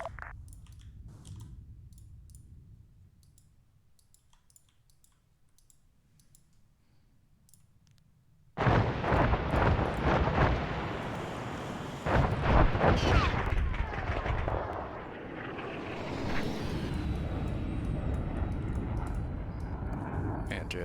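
Artillery shells exploding in a military video game: after a quiet stretch with faint clicks, a sudden loud blast hits, followed by further rumbling impacts and continued booming noise, with voices talking over it.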